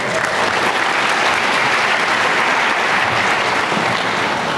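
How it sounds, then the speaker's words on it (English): A crowd at a high school graduation ceremony applauds the student musicians, a loud, dense and sustained wall of clapping that holds steady throughout. "Can we just give one more round of applause for our student musicians this morning?"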